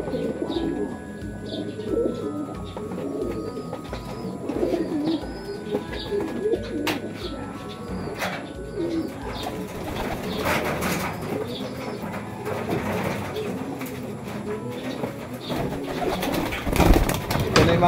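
Racing pigeons coo repeatedly in a loft, soft low throaty calls overlapping steadily throughout with occasional chirps and faint background clatter.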